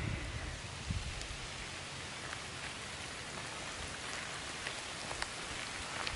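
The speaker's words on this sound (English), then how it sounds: "Yeah, it's starting to rain." Steady rain patters down across an old cemetery among graves dating to the 1800s, a dense, even hiss of drops on the ground with a few sharper nearby splats, continuous and moderately loud.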